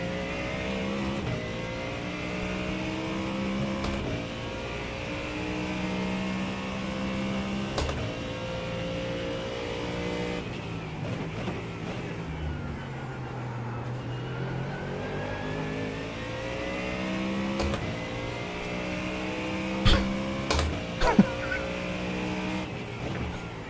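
A GT3 race car engine in the iRacing simulator at Sebring, rising and falling through gear shifts with repeated sweeping revs, steady and continuous, with a few sharp bumps and clicks near the end.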